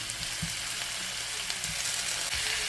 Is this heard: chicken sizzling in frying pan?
yes